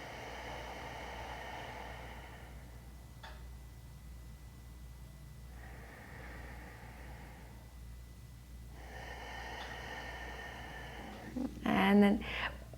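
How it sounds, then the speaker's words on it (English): Slow deep breaths during a seated meditation, long airy inhales and exhales in alternating swells, soft and close, with a brief louder sound near the end. "We'll take a few breaths here."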